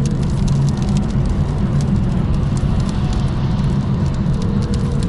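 Stones flung up from under a truck on a German road patter continuously against a car like hail, a dense steady rattling over the low rumble of driving.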